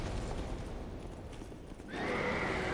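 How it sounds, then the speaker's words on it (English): A horse neighs loudly over a thick, noisy background, its whinny rising sharply near the end of the short stretch, in the video game Dark Souls II: Scholar of the First Sin. "Now I'm fighting a horse."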